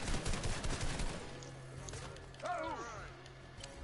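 Assault rifle fire from a green AR in a video game: a quick burst of sharp shots at the start, then quieter game effects while a voice talks over them.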